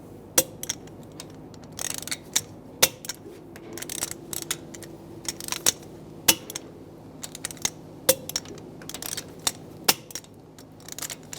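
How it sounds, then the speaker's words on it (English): Torque wrench tightening lug bolts in a cross pattern on a 2006-2009 Mercedes-Benz E350 wheel, giving a string of sharp metallic clicks at irregular intervals with faint ratcheting and handling noise between, close and moderately loud. "we're going to torque the lug bolts to 95 foot-pounds in a cross pattern to tighten the wheel down"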